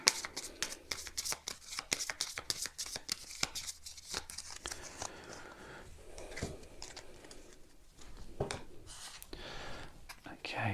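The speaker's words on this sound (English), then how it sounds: "we need to shuffle the LRDG deck" A board game card deck is shuffled repeatedly in close, crisp riffling bursts, with quiet murmuring speech in the background.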